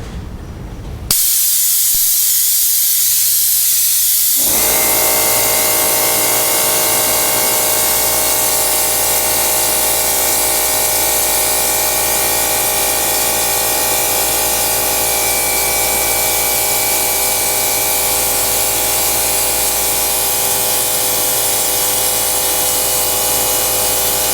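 A sprayer blasting motor oil as a rust undercoat on a vehicle's underbody starts with a click, then runs as a loud, continuous hiss with a steady whining hum for about twenty seconds.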